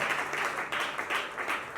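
A crowd applauds the national president at a church gathering of pastors, giving rhythmic, fairly faint clapping in repeated swells that lasts a couple of seconds.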